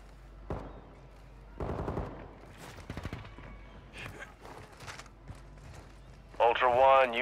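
Sniper gunfire in the Call of Duty DMZ video game, several sharp shots spaced apart amid game sounds and a radio voice, with a louder mechanical burst at the end.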